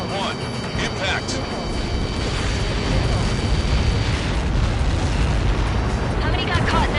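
Massive explosion from a missile impact in an Ace Combat flight game, a continuous roaring rumble that swells and sustains for several seconds, loud and dense, with aircraft noise and faint radio-style voices underneath.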